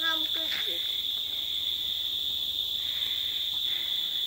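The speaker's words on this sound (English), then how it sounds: "I feel some cricket." Crickets in the countryside keep up a steady, high, continuous chirping, with voices talking briefly at the start and faint sounds around it.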